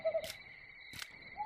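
An owl hoots twice at night, two short spaced calls over a quiet background with a steady insect-like whine, distant and fairly faint.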